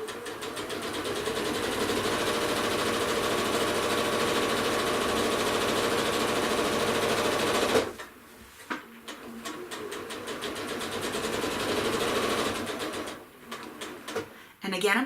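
A sewing machine fitted with a walking foot stitches a quilt with an even, rapid mechanical whir for several seconds, then stops and restarts in a few short, stuttering bursts.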